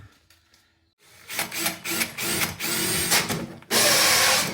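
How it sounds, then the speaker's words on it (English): A power drill with a hole cutter bores through thin cabinet backing for a pipe during a kitchen install, a loud whirring grind starting after a brief pause and running in uneven bursts with rasping cuts. "Now these are only thin back, so go through with your drill bit"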